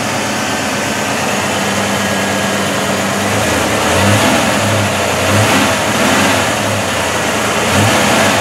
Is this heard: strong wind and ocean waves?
no